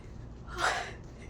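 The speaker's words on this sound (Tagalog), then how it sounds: "Hinihingal ako." A single heavy gasping breath out of breath, swelling and fading over about a second, close and fairly quiet, with no talk, while walking home outdoors in Riyadh, Saudi Arabia.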